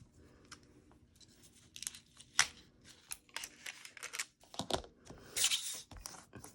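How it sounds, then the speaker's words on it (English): Scissors snipping a piece off a roll of sticky tape, close and fairly loud, with crinkling, tearing and several sharp cuts in an irregular run of rustles and snips. "And I'm going to cut a piece off."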